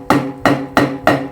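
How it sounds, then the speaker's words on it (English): Four sharp hits on an Alesis DM6 electronic drum kit crash set to a tabla voice, at an even pace, each a bright, ringing strike that decays quickly, with a hollow, tabla-like tone. "and now I play the crash."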